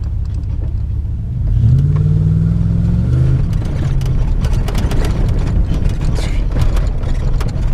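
A Ram 4x4 pickup truck drives over rough ground off-road, its engine droning low and loud with a rising rev midway, while rattles and clunks from the bouncing truck continue throughout.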